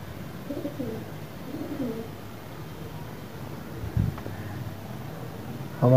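Pet pigeons coo in low, soft repeated phrases nearby, faint over quiet background noise, with a brief knock or rustle near the end.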